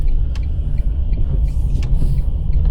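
A Nissan Leaf electric taxi drives off: a steady, close low rumble of rolling road noise with faint higher tones and a couple of brief ticks, no talk.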